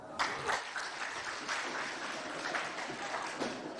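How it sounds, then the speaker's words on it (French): Audience applause in a hall at a school event, a steady wash of many hands clapping throughout, moderately loud and continuous. "Acclamez pour vous."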